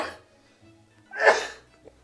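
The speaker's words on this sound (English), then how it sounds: "Sneezing break." A single short sneeze bursts out after a quiet moment, close and fairly loud, followed by a faint breathy sound.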